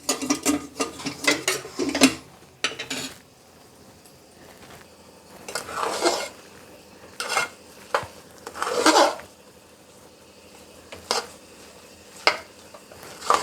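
Metal spoon scraping and knocking in a pressure cooker pot while stirring payasam, with a run of quick clinks, then scattered louder scrapes and taps, close and alone.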